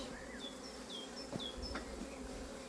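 A honeybee swarm in a hive, with a capped royal cell, gives a steady close insect hum throughout, while short birdlike chirps and a few faint knocks sound over it and no one speaks.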